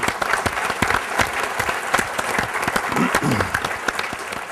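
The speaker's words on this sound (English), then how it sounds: "If we could please have a round of applause for all of our sponsors." Audience at a business power breakfast applauds its sponsors with steady, full-room clapping that holds for several seconds at a moderately loud level, with no talk over it.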